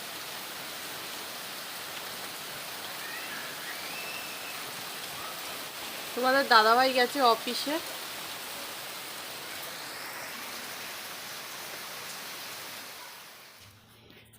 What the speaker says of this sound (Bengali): কত জোরে দেখো গাইজ বৃষ্টি নেমেছে